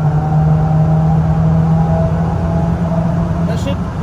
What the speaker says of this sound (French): Entrée de courbe, filet de gaz, réaccélération.